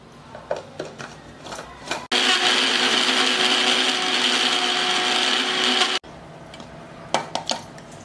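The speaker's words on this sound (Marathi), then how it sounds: "याला ना पाणी नाही घालता वाटून घेऊ" A mixer grinder whirs loudly and steadily for about four seconds, grinding dry roasted masala with fresh coriander, garlic and salt and no water, starting and stopping abruptly between quieter kitchen clatter.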